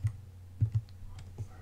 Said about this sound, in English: I could also, of course, use this Bluetooth connected keyboard, which is connected to this device.